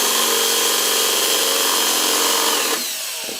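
A power drill cuts a chamfer into the edge of a drilled hole with a loud, steady grinding whine for nearly three seconds, then the sound eases off as the bit slows.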